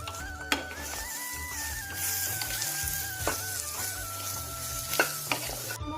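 Jaggery melting and sizzling in a pan while making a sweet-spicy berry pickle, a steady close frying hiss with a few sharp stirring clicks and scrapes, no talking.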